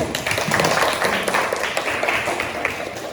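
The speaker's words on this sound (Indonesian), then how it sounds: "Tepuk tangan untuk kelompok 1" A class of students in a school session gives a round of applause for a presenting group, a dense, even patter of many hands clapping at once, close and moderately loud with no voices standing out.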